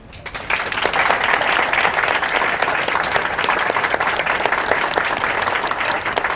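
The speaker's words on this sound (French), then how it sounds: "Et maintenant, je vous demande d'applaudir Fabiola" Loud, dense applause from a conference audience, beginning abruptly and holding steady as a continuous wash of many hands clapping, close and full, with no talk over it.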